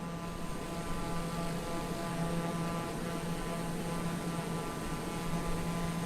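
Steady, loud engine drone fills the cabin of a small airplane climbing through about 3,000 feet after takeoff with flaps retracting, a continuous hum with a low tonal whine and no pauses.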